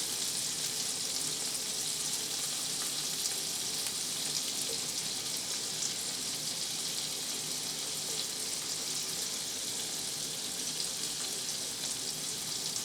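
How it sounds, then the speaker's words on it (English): Golden chanterelle mushrooms fry in butter in a kitchen pan, a soft, even, continuous sizzle heard steadily throughout without any talking. "I can smell the butter cooking with the mushrooms"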